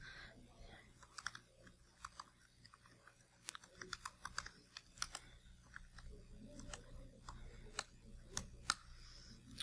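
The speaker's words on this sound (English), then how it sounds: "sorry, I can't type and talk at the same time." Fingers typing on a computer keyboard, quick irregular clicks in short bursts with pauses, faint and close over a soft room hum, no voices.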